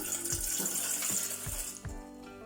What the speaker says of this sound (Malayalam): അതിലേക്ക് നമുക്ക് ഈ ഒരു ചെറിയ കപ്പിന് 1 കപ്പ് വെള്ളം ഒഴിച്ചു കൊടുക്കാം.